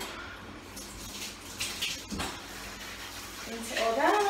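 Water rinses down a tiled bathroom during cleaning, a steady splashing wash that builds toward the end, with a voice talking over it.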